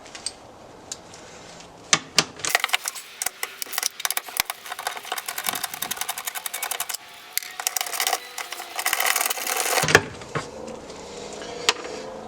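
Two 10mm bolts being removed from a Subaru Impreza or Crosstrek taillight with the hatch open: rapid ratcheting clicks in uneven bursts, close and fairly crisp, with a few sharper knocks.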